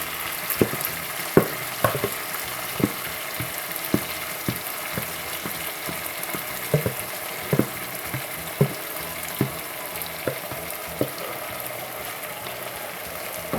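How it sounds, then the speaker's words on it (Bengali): Chicken pieces and yogurt hiss and sizzle in hot oil over cooked-down masala for a Bangladeshi morog pulao, a steady frying crackle broken by regular sharp clinks and scrapes of a spoon stirring against the pot. "আমি এবার চিকেন এবং দই ঢেলে দেব"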